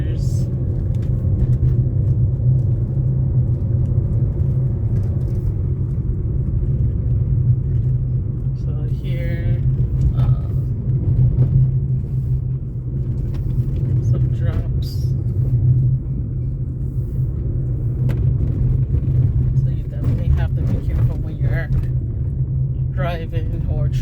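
Steady low rumble of a car driving over rough, uneven roads in Jamaica, continuous and close throughout, with occasional brief knocks and rattles from the bumpy surface and a voice speaking over it.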